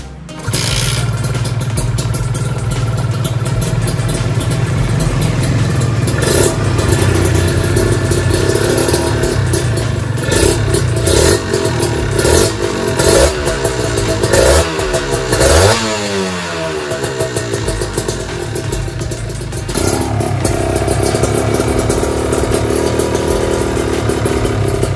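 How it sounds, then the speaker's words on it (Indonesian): Kawasaki Ninja RR two-stroke motorcycle fitted with a new aftermarket exhaust, revving loudly and close by, with repeated throttle blips rising and falling over a steady idle for the whole stretch, no talk. "Pasti penasaran sama suara knalpotnya"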